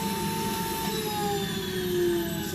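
A home vacuum cleaner with a clogged filter runs steadily and loudly, a strained whine with a thin whistling tone over a broad airy roar, with no pauses.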